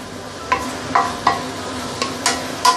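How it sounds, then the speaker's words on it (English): Metal spatula scraping and tossing leek and roast meat in a wok with caramelized dark soy sauce, six sharp clanks spaced unevenly over a low steady sizzle, close and alone. "You don't have to stir fry the leek for a long time."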